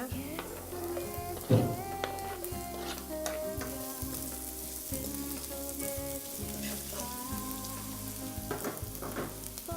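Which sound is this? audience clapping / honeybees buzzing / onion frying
onion frying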